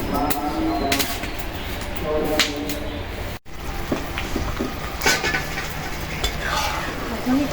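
Homemade tomato sauce bubbling and spattering in a pan over a village-style fire, with irregular pops and stirring scrapes above a steady background hiss and some faint voices nearby.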